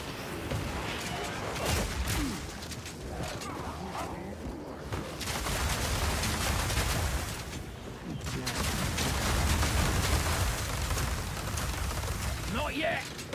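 Fire spell explosions in Path of Exile 2, a dense run of bursting, crackling blasts in rapid irregular succession, loud and continuous with brief lulls, while a voice talks over them.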